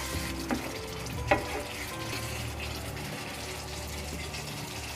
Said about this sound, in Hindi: डालने के बाद इसको मैंने 1 से 2 मिनट के लिए अच्छे से भून लेंगे हम